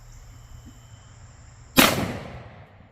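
One sharp, loud .45 Super shot, an Underwood 135 gr Xtreme Defender round fired from a 5-inch 1911 pistol, cracks out of near quiet and leaves a short decaying tail.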